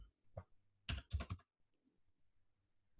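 Computer keyboard keys pressed in a quick cluster of clicks and taps, a short burst then a pause, fairly quiet and close with no talking.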